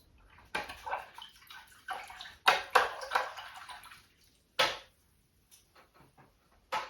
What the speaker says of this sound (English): Just rinsing my brush out, setting it off to the side.